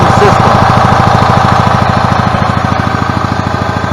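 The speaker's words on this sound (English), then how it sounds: "my cart running, and as you can see, with it barely putting any RPMs out, it is charging the battery" A gas golf cart engine idles at low RPM close by, a loud, even, rapid chugging pulse that holds steady throughout.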